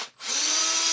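A cordless drill spins an aftermarket carbon or aluminum barrel pipe for an Umarex HDB68, used like a makeshift lathe; a steady, close whirring motor drone starts after a brief gap and holds evenly to the end.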